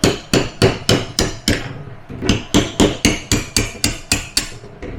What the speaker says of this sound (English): take your 1/4-inch punch, place it in at an angle, and drive out your nylon bushings